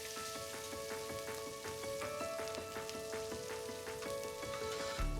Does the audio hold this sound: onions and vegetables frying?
yes